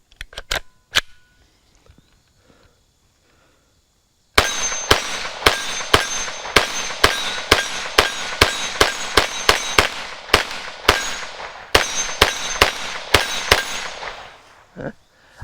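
Rapid bursts of gunfire from a CZ Scorpion Evo, about twenty sharp, loud shots in a fast, slightly uneven rhythm, preceded by a few isolated clicks and a short quiet pause.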